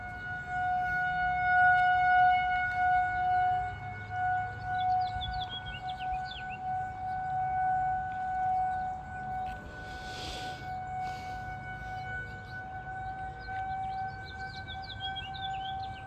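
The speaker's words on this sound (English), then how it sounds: "Birds chirping, tornado sirens going off." Distant rotating civil defense tornado siren sounding at noon during a test in Lucas County, Ohio, a steady wailing tone rising and falling faintly across the whole stretch, with birds chirping nearby.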